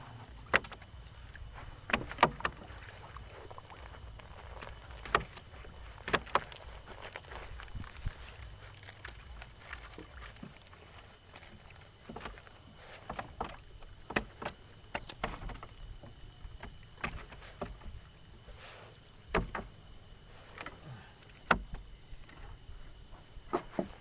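Irregular sharp knocks sound against a boat hull on the Mekong River in the evening, over a low engine rumble, coming in scattered clusters of taps.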